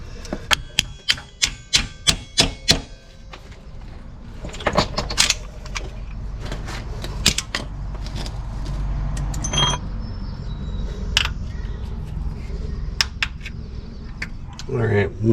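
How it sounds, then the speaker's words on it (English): Cotter pin being worked out of a ball joint on a 1999–2007 Chevy/GMC Silverado truck: a run of sharp metallic clicks and taps at the start, then scattered clinks and scraping over a steady garage hum, close up. "let's go ahead and pull this cotter pin and clean it up a little bit"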